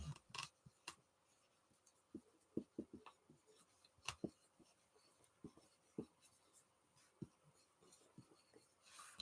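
Handwriting scratches on paper in short, uneven strokes and taps, close but very faint, with no voices over it.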